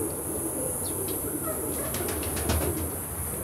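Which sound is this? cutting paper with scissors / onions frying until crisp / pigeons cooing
pigeons cooing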